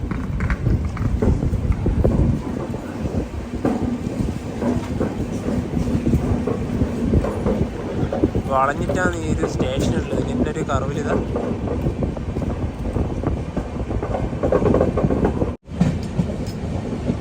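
The Chennai–Bengaluru Mail rolls along the rails with a steady rumbling clatter of wagons, heard from on board, while someone talks over it and a brief chirping tone rises midway.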